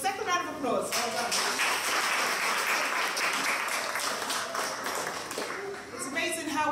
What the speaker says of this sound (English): I think we need to give them a second round of applause.